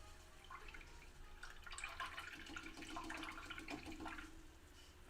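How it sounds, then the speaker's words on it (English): Water runs and splashes softly as a paint brush is rinsed out, a faint steady trickle with small splashy bursts, no talking. "I'm going to rinse my brush out."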